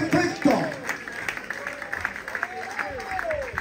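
A church congregation applauds the Lord during a sermon, with scattered clapping under excited voices and cheering; the claps are moderately close and uneven, with a stronger burst near the start and speech running throughout.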